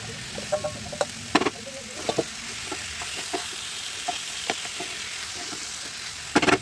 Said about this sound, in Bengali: তার মধ্যে আবার ওই চিকেনটা দিয়ে ভালো করে মাখিয়ে মুখিয়ে টস করে নিই